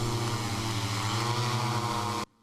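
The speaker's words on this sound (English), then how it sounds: "this is the first time we've used drones for bear deterrence" A drone used to scare off bears in Japan, fitted with speakers that play dog barking; a steady, loud propeller whine with a harmonic hum holds continuously, then cuts off abruptly near the end.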